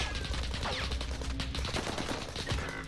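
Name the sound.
gunfire from Warzone video game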